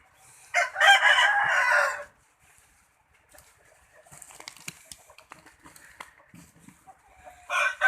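A rooster crows loudly nearby, then hens cluck softly amid scattered background noises in a flooded chicken coop after heavy rain, before another crow begins.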